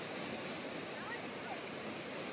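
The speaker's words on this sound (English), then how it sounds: "here's a little bit of that river flowing into the Kern River" A small clear river stream flowing into the Kern River, a soft continuous rushing wash of water heard faintly and evenly, with no distinct splashes standing out.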